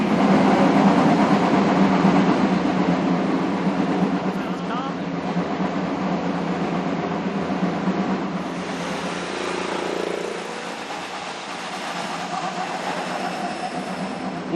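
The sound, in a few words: IndyCar race car engines starting at Detroit Grand Prix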